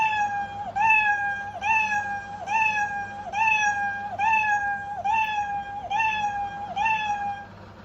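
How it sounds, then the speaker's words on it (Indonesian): Cartoon cat meow sound effect from a block-based coding program, repeating eight times in an even loop, clear and alone over a faint low hum. "Mengapa dia berbunyi meongnya berulang-ulang?"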